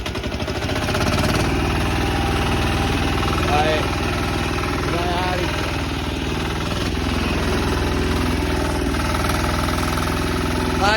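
Tractor engine on a farm running steadily throughout at a constant mid-level drone, with people talking over it.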